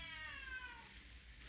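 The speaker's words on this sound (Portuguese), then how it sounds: "Meu gato tá miando aqui." A domestic cat meows once, faint and drawn out, over a low steady background hum with no speech.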